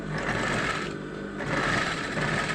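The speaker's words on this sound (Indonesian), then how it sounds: "Kemudian kita jahit dari ban pinggang langsung ke bawah posisinya seperti ini." A sewing machine runs steadily and loud up close, stitching a trouser seam from the waistband downward in one continuous whirring burst with a slight dip in speed partway through.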